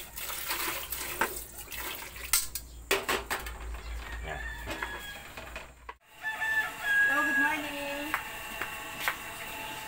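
Chickens cluck and a rooster crows around a farm in the morning, the birds fairly close with a trickle of running water and some talk in the background.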